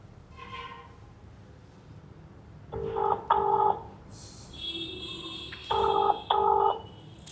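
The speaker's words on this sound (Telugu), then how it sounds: "రింగ్ అవుతుంది" A phone ringback tone sounds in two paired bursts, repeating after a pause, over a low hum of background noise.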